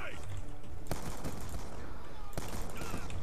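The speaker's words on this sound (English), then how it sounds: "What's all those gunshots? Oh, right, okay, there are people shooting at me." Black Ops 2 multiplayer gunfire, two sharp bursts of shots cutting through a dense, busy game soundscape, with more scattered firing underneath.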